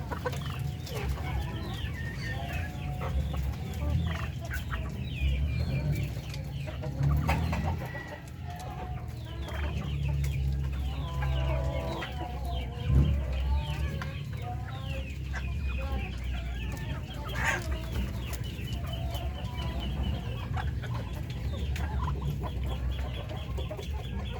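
Darag native Philippine chickens cluck steadily while feeding on corn, a busy flock close by with overlapping clucks and occasional crowing over a constant farmyard background.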